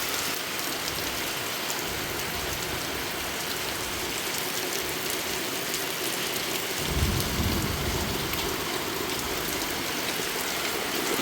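Steady heavy rain falls in a Konkan village during the first May downpour, a loud, continuous hiss of drops hitting surfaces, with a brief louder low surge partway through and no talking.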